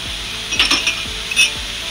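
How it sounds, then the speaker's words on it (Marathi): Malvani and garam masala are stirred in a hot pan, with a soft continuous sizzle and rhythmic scraping strokes of a spatula roughly every half second, close and alone. "आता ह्या जरा परत परतून घेतलो"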